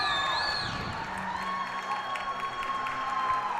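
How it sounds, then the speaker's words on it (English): Loud hockey arena crowd cheering and roaring throughout at a high school ice hockey game at the Wegmans Ice Arena after a turnover, a dense sustained crowd wash with high whistles or shouts. "This crowd has erupted at the Wegmans Ice Arena, forcing the turnover."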